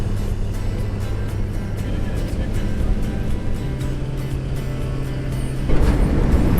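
A truck drives steadily over a long stretch of road, its engine droning continuously with road noise throughout, rising slightly louder near the end.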